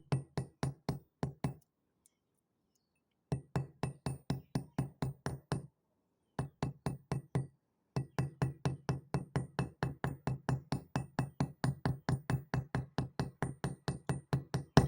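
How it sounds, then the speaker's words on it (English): Rapid, steady hammer taps on a braided copper wire cuff bracelet come in three long runs split by short pauses, each strike a crisp, close knock. "Remember, this one we're hammering halfway, we're not flattening it completely."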